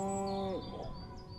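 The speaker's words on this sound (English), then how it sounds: "Again with the moo?" A cow in the video game Destroy All Humans! lets out a single deep, tonal moo that drops at the end, followed by faint higher game tones and quiet background ambience.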